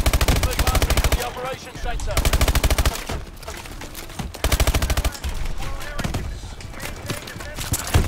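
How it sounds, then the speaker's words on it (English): Rapid bursts of automatic gunfire from the Call of Duty Advanced Warfare campaign, loud and repeated in dense volleys with brief pauses between them, set against a mech battle. "I guess I'm just gonna fire at him"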